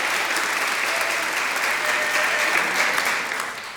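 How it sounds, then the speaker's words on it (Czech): An audience at a summer school event claps in steady, sustained applause, a dense even patter from many hands that fades slightly at the end. "Yes, that's a very deserved applause."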